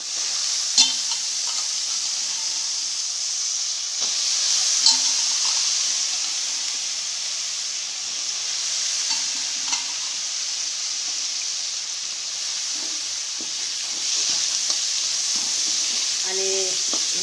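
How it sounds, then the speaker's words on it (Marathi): Soaked chana dal sizzles steadily in a hot pan with turmeric while being stirred, a continuous close frying hiss broken by occasional soft clinks and scrapes of the spoon. "आता हे भिजलेले हरभऱ्याची डाळ टाकून घेऊ."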